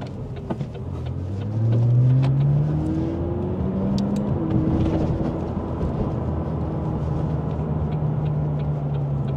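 A McLaren 540C engine accelerates hard from inside the cabin, a loud rising rev sweeping up through smooth gear changes, then holding a strong steady drone.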